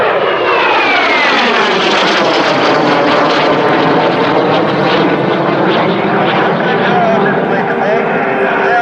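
Jet aircraft of the Breitling Jet Team flying past at the Belgian Air Force Days airshow, a loud, continuous roar that swells and shifts in pitch as it passes, with no clear speech.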